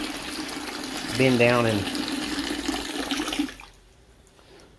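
Water pours in a steady, rushing wash while mead is being made, heard close for a few seconds under a brief spoken phrase before cutting off to quiet room tone.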